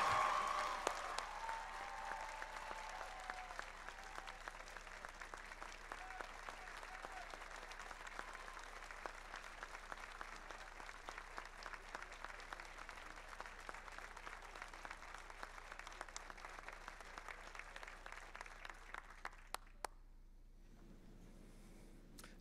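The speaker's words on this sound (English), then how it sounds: "Please applaud loudly." Sustained applause from a commencement ceremony audience for honored professors emeriti, a broad wash of many hands clapping that continues for around twenty seconds before quickly dropping away to near silence.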